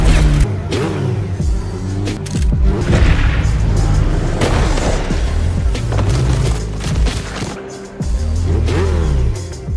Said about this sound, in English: I just got shot, Jackson